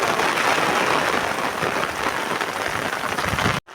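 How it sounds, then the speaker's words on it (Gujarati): A downpour drums on an open rooftop terrace in Patdi, giving a thick, constant wash of rain noise that holds at full strength and then cuts off abruptly near the end. "અને વરસાદ જો પડે જો આમ પડે રહ્યો આપણો વરસાદ"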